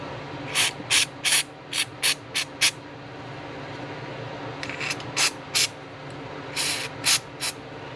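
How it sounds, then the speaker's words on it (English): Short, sharp bursts of carb cleaner spray and compressed air hiss in two clusters, about a dozen blasts in all, while the fuel ports of a Jiffy ice auger are cleaned. A low background hum runs underneath. "I made sure I got some carb cleaner down in these little fuel ports here, and then cleared out everything with a bit of compressed air."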